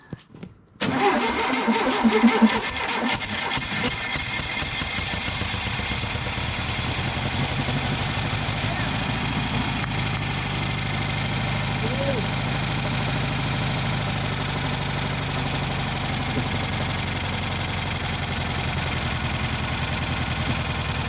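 An engine in a classic car restoration cranks briefly, catches and settles into a steady, loud idle that runs evenly for the rest of the clip.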